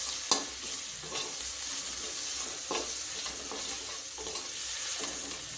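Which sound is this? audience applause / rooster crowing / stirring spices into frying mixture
stirring spices into frying mixture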